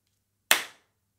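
A single sharp body-percussion hit, most likely a hand clap, lands close and crisp and decays quickly into silence.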